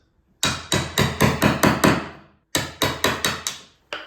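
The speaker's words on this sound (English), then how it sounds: "I can even use my small chisel and we're just taking out little pieces at a time" A hammer strikes a chisel cutting small pieces out of a wooden door for a lock, with a quick run of about seven sharp, ringing blows, a short pause, then five more, loud and close.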